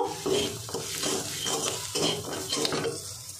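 Turmeric and meat masala powder are stirred into a frying pan with a utensil, scraping strokes repeating in a rough rhythm over a quiet background sizzle, close and fairly soft.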